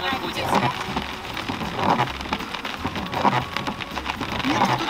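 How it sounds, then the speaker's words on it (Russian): Steady rain from a tropical storm in Florida patters on a surface at close range, a continuous hiss with scattered drop impacts, while voices talk faintly in the background. "Нет, все-таки дождь пересидел нас."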